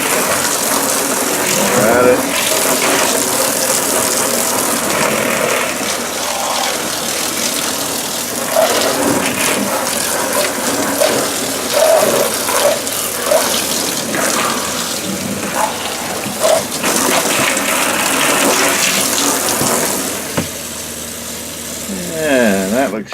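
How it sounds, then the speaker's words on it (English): Water gushes strongly from a shower head as it rinses out during de-winterization, a steady loud spray running for most of the stretch while someone talks over it intermittently. "Looks like nice pressure coming out of that shower head"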